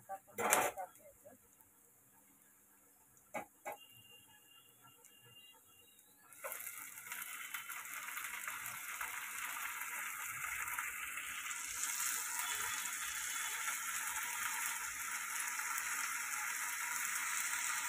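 Chopped fenugreek greens drop into a pan of frying onions. The first six seconds are quiet apart from a few clicks, then a steady hiss of sizzling rises and holds to the end.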